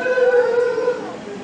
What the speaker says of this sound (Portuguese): é um cachorrinho.